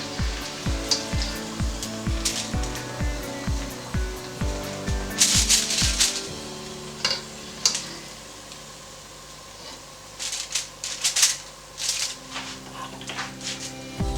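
Onion bhajis fry in hot oil with a steady sizzle, alongside bursts of spitting and crackling; a series of regular knocks opens the clip before the frying continues alone.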